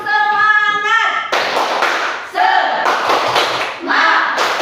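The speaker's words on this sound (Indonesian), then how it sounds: "Tepuk semangat." A classroom of children performs a rhythmic clapping chant, bursts of claps and table taps in a patterned beat alternating with chanted voices, close and lively.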